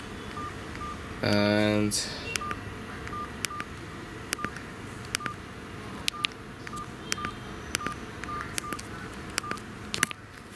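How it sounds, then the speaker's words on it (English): A basic mobile phone with a volume rocker beeps as its menu is navigated: a short burst of dial-style tones, then a steady series of sharp, evenly spaced electronic beeps and clicks, close and clear. "but you can navigate to the menu using these volume rocker for some reason."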